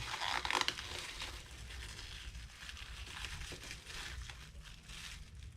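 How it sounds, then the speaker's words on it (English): Plasti Dip rubber coating being peeled off a surface, giving a steady close crinkling and tearing rustle with a sharper burst near the start, no voices. "Let's just see what happens when we peel this bit, man"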